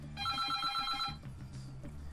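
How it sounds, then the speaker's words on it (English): An office telephone rings in a bright, electronic trill of rapid pulses for about a second, then falls quiet, leaving low room noise. "Flipping phone."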